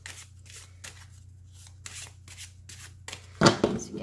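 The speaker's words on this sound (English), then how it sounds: "They overhand shuffle beautifully" Oracle cards are overhand shuffled by hand in a series of soft, rapid riffling bursts, close up, ending with a louder rustle of cards.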